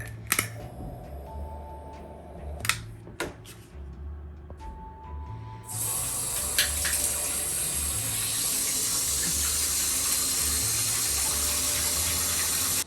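A water tap fills a bathtub: a few clicks and knocks first, then a loud, steady rushing gush of water starts and continues unbroken to the end.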